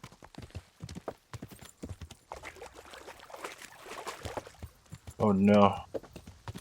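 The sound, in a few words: black horse hooves in Kingdom Come: Deliverance video game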